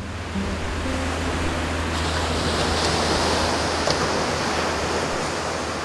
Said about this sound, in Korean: 생명을 얻은 듯 쉼 없이 움직이는 파도가 야속하기도 합니다